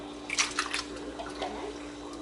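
Rice being washed by hand in a bowl of water, with soft splashing and sloshing in short bursts, close and moderately loud against a steady background hum.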